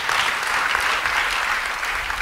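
A church congregation applauding together, dense continuous clapping from a large crowd indoors, loud and even throughout the short burst with no voices on top.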